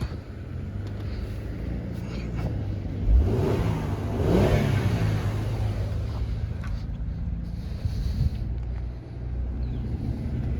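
A 2011 Mercedes-Benz E350 engine is revved close by, with a clear rising rev around the middle that then settles back to a steady idle rumble.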